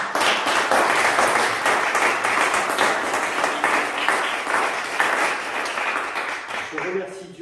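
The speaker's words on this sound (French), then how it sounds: "je voudrais vraiment qu'on les applaudisse tous les deux" Sustained audience applause for two staff members at a school diploma ceremony, a thick continuous patter of many hands clapping at even volume, tapering slightly near the end.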